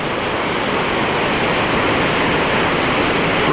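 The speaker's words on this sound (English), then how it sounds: "if you pan back, we'll see the huge part of the falls" Roar of a large waterfall in Grand Teton National Park, a steady, dense rush of falling water filling the scene without pause, loud and close.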